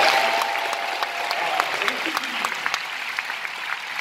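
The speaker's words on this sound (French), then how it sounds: "Samia, applaudissements pour Samia" A crowd claps steadily for a woman named Samia, who has just given her first name at a live conference show. The applause is dense and sustained throughout, with a brief tone in the background early on.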